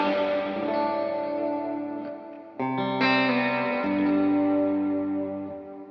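Electric guitar chords ring out through a bright, lush plate reverb pedal, each strum leaving a long shimmering tail that hangs and blooms between changes.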